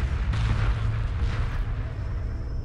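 Ion cannon frigates fire in a space battle in the video game Homeworld Remastered, a heavy continuous rumbling barrage with low booms rolling over one another, loud and unbroken.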